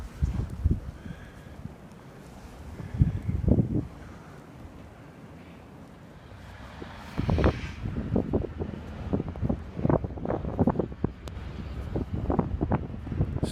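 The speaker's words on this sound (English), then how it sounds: "Still very windy," Strong gusty wind during a Boston blizzard buffets the microphone, rumbling in uneven bursts that grow heavier and more frequent in the second half.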